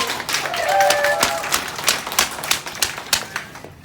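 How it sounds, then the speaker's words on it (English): Graduation audience claps in a dense burst of applause that thins into scattered, separate claps toward the end, loud and close. "Give a round of applause to all of you."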